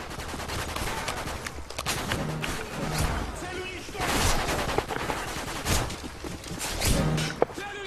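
Rapid automatic fire from an FMG9 in Modern Warfare 3 Infected mode, dense overlapping bursts of gunshots throughout, loud and close, with players talking over the shooting.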